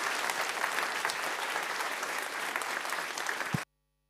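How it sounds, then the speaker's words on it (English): Conference audience at NixCon 2024 in Berlin applauding, a loud, dense burst of clapping from many hands that runs steadily and then cuts off abruptly. "But now another round of applause for everyone."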